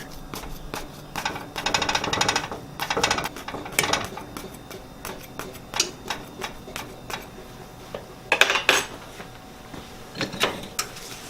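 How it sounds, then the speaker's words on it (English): A fork poking holes all over a cinnamon coffee cake, a string of quick, soft taps and pricks in uneven bursts, close by and fairly quiet, with no one speaking. "you're going to take your fork and poke the whole cake generously"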